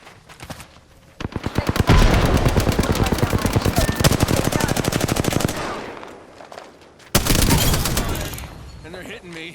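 Automatic weapon fire in the Apex Legends video game, a long rapid burst of loud shots lasting several seconds, then a pause and another sharp volley, with faint in-game voice callouts around it.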